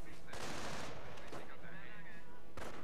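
Gunfire crackles in a Company of Heroes battle, sharp bursts of shots that start and stop abruptly over a few seconds, with a voice talking over the fighting.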